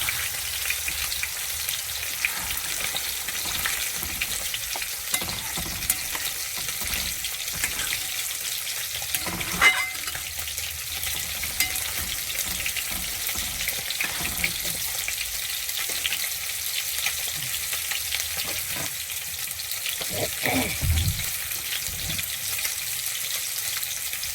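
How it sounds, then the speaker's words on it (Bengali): Spiced potatoes frying in a pan hiss and crackle continuously as a little water goes in, with a few scraping stirs and faint splashes through a long, steady sizzle and no talking. "আবার একটু জল দিয়ে দেবো, একটু জল দিয়ে দিচ্ছি।"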